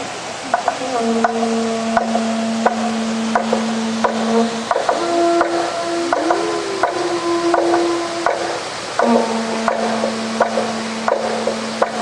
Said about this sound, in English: our divers will sound their conch shells to signal the beginning of their diving performance.